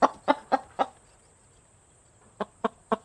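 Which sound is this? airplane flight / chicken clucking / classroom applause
chicken clucking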